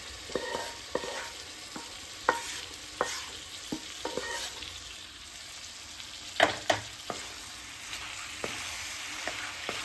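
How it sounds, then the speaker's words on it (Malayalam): Vegetables sizzle in biryani masala of garlic and ginger as a spoon stirs the pan, a soft steady fry broken by repeated clinks and scrapes, close and without talk. "നമുക്ക് പച്ചക്കറിയൊക്കെ ഇതിലേക്ക് ഇടാൻ ഇതിലിട്ടിട്ട് വേവിക്കാം"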